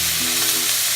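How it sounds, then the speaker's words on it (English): Chicken seasoned with salt and pepper sizzles loudly and steadily in a hot pan, a dense close frying hiss with a faint hum beneath, no voices. "Fry it until it's nice and golden."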